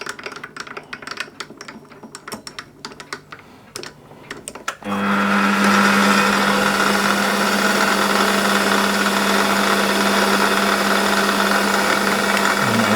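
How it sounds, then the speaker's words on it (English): On a lathe, a center drill held in the tailstock bores into the workpiece: irregular ticks and scraping first, then the machine settles into a loud, steady whirring drone with a constant tone. "So let's center drill this, tail stock."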